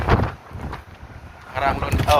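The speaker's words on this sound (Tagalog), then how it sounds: "So ayan, maraming hangin." Gusty wind buffets the microphone in low rumbling bursts at a parking plaza in Rotterdam, Netherlands, with a person talking in Tagalog over it.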